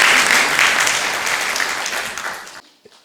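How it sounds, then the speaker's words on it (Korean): Audience at a lecture event breaks into sustained, dense applause that fills the room, then cuts off abruptly, leaving a brief quiet tail with a couple of stray claps. "다시 한번 큰 박수 부탁드립니다"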